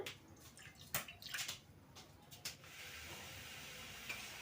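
Water poured into a pan on a lit gas stove while making kohlrabi pickle, a brief splashing burst followed by a steady faint pouring hiss with a few drips.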